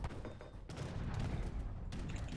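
Mortars fire in Age of Empires amid a dense, continuous rumble of battle gunfire, loud and unbroken for a couple of seconds.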